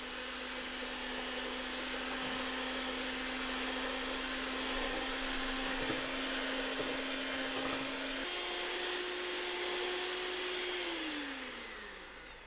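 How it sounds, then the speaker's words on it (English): An electric beater fitted with a single whisk smooths thick jalebi dough, giving a loud continuous motor whine that steps up in pitch partway through and then winds down at the end. "now I'm going to use my electric beater to smooth this dough"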